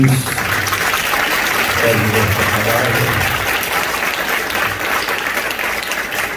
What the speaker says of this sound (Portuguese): você dá uma linda salva de palmas para o Senhor Jesus